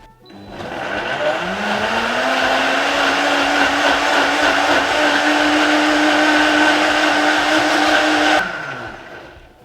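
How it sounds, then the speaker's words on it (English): An electric blender whirs steadily for about eight seconds, blending a Korean bulgogi marinade, with a loud, even motor drone that rises slightly in pitch as it spins up and cuts off cleanly. "we're going to put our lid on, and we're going to blend the absolute shit out of this for a minute or so"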